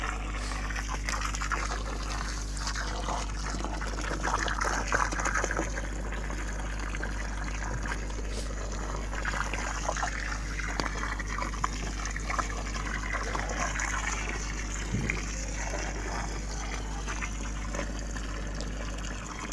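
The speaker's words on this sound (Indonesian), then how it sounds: "kita lakukan coba penyiraman secara full biar airnya ini menyerap langsung ke akarnya" Water is poured onto the soil around a hybrid coconut plant, a continuous close trickling and splashing wash over a steady low hum, with a few faint background knocks and no talking.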